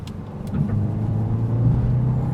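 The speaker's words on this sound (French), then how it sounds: "L'auto se met un peu plus dans les tours, de manière à avoir une meilleure réactivité à la pédale d'accélération." A 2022 Audi A1 engine revs up under acceleration, a close, steady low drone that climbs gradually in pitch as the car pulls harder, with no talking over it.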